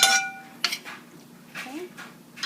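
Meatball ingredients being stirred in a bowl, giving a few scattered clinks and scrapes of utensil against dish and soft mushy stirring, close by, with a voice speaking in between.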